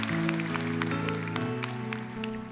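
A church congregation applauds during a Sunday worship service, a spread of scattered claps over sustained organ or keyboard tones that fade gradually.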